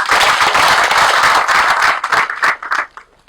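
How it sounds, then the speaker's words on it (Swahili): An audience at a formal gathering breaks into dense, close applause that holds strong for nearly three seconds, then thins into a few scattered claps and stops. "Tuwapigie makofi."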